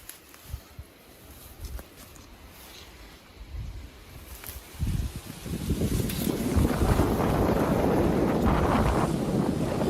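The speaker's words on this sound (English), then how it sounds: "The second time Casey steps foot on the cornfield, a wind gust comes out." Wind gust sweeping across a cornfield, starting as faint buffeting and swelling around midway into a loud, sustained rushing roar that holds to the end.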